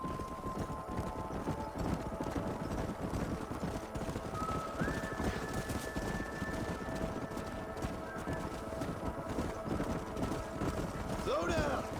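Horses galloping in Red Dead Redemption, a steady rapid clip-clop of hooves running throughout, with a voice speaking partway through over the hoofbeats.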